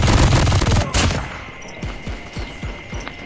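An MG42 machine gun in the Call of Duty Mobile game fires a loud, rapid burst that cuts off after about a second, followed by a handful of separate thumps and faint game ambience.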